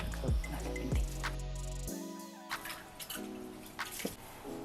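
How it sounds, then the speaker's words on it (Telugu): Water pours into sifted millet flour in a bowl, with a few brief splashing trickles and drips followed by soft wet mixing sounds, close and fairly quiet. "కొంచెం వచ్చిన వాటర్ ఇందులో పోసుకోవాలి"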